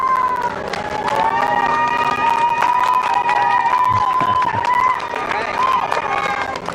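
A small crowd cheers and shouts for NASA astronauts Bob Behnken and Doug Hurley as they wave, with a steady, lively roar of voices mixed with whistles and a few claps.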